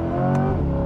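A 2023 Chevrolet Corvette Stingray with an eight-speed dual-clutch transmission accelerates hard, its engine droning in a steady high rev with a brief shift blip partway through, loud and close inside the car, no talk.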